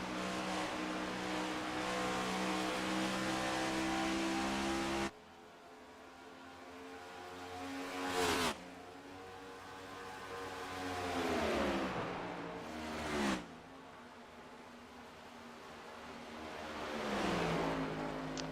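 Race cars in an online sim racing league game at Atlanta Motor Speedway roar past in loud accelerating sweeps, engine pitches rising and falling as cars pass, with a hard cut between segments and no talking.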